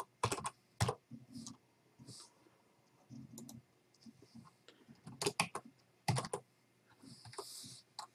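Keys on a computer keyboard are typed in short bursts of sharp, close clicks with brief pauses between groups, quiet and without talk.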